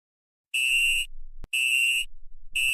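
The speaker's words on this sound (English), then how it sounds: "I think that's the fire alarm going off." A cartoon fire alarm blares in loud, shrill electronic bursts, three pulses separated by short gaps, with no talk over it.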